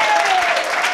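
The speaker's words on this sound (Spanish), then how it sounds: "¡Fuerte el aplauso!" A crowd at a carnival troupe's gathering claps in a dense, continuous burst of applause, with voices calling out over it.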